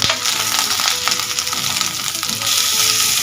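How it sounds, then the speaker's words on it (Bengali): Sliced ridge gourd frying with potatoes in a hot pan, a loud, continuous oily sizzle with crackling spatter and the occasional scrape of stirring, no voices. "ঝিঙেগুলো আলুর সাথে ভেজে নেব"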